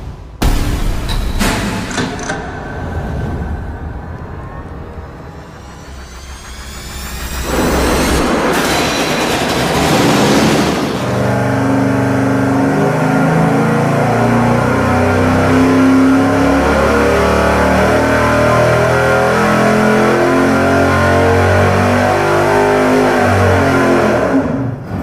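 A 408-cubic-inch V8 on an engine dyno roars through a full-throttle pull, starting with a rough idle and clatter, then surging into a loud sustained howl that holds steady to the end, with no talk.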